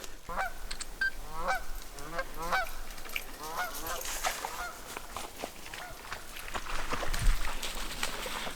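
Geese honk repeatedly as they fly overhead along a trail walk, a rapid series of raspy calls fading somewhat into rustling outdoor noise and wind.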